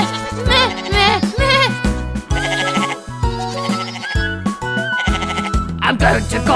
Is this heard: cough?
no